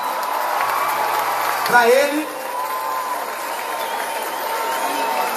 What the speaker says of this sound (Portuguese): Eu queria os aplausos